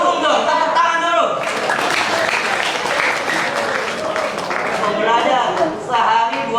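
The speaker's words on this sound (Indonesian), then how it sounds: "Saling dukung dong, tepuk tangan dulu." An audience at a dawn Ramadan lecture breaks into a burst of applause that swells and then fades, with someone speaking briefly before and after the clapping.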